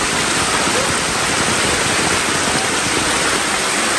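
Heavy monsoon rain pours over a Konkan village with water running through it, a dense, steady, even roar that fills everything and has no pauses or voices.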